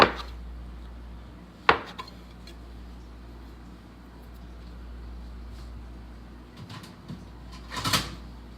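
Knife cutting through rolled fresh pasta dough on a floured kitchen surface: a few sharp, isolated thuds and taps spread across a quiet background hum, one near the start and a cluster toward the end.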